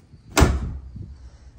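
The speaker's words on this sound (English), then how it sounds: "Well, anyway, you shut the door." A brand-new car door on a showroom floor shut once with a solid, close thud, followed by a short low rumble that settles into quiet.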